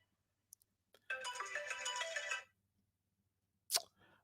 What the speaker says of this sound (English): So my phone just rang